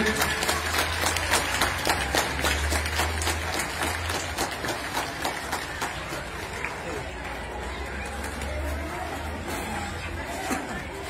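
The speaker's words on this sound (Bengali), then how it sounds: "সবাই তোমরা হাততালি দাও জোরে।" An audience applauds at a school co-curricular event, with steady, dense clapping that continues throughout, mixed with crowd chatter and a voice speaking over it.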